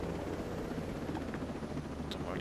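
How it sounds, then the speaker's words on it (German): Helicopter in the video game Ghost Recon Breakpoint, a steady low rotor and engine drone that fills the whole stretch at moderate loudness, with no speech over it. "Seltsam mit dem Hubschrauber"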